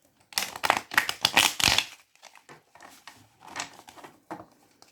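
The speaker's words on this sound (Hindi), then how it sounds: "I need to shuffle many times." Tarot cards being shuffled by hand, giving a quick burst of riffling and flicking, followed by softer, scattered card shuffles and taps close up.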